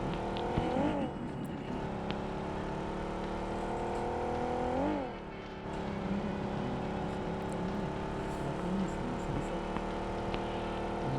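A small car engine in a video game, a mini Lamborghini, drones steadily with gear-shift rises and falls in pitch, a brief dip midway, then the motor hums on evenly.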